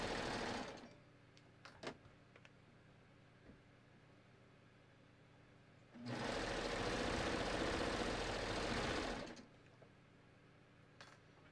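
A serger stitching a fabric hem, heard as a loud, fast mechanical whir that runs for about three seconds in the middle, with brief clicks and handling noises before and after in an otherwise quiet room.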